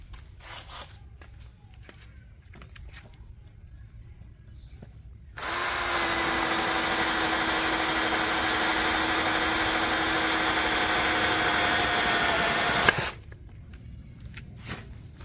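A DCK KDJZ23i brushless drill in drilling mode bores through a roughly 4 cm thick meranti wood board at speed 1, producing a loud, steady motor whine for about seven seconds between quieter stretches.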